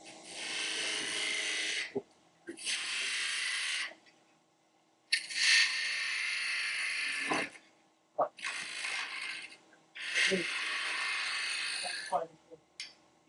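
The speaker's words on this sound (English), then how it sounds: "I got my 3/8 spindle gouge." A small wooden Christmas tree spins on a lathe while a 3/8 spindle gouge cuts it in several bursts of hissing, scraping noise separated by short pauses, with occasional voices between cuts.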